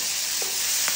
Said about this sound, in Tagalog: At i-add ko na itong mix ng ginger at garlic.